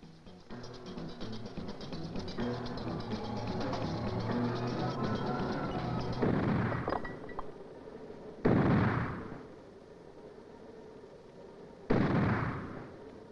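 A Rarden 30mm cannon fires heavy booming shots, two or three distinct blasts spaced a few seconds apart after a stretch of rumbling engine or vehicle noise, with echoing tails.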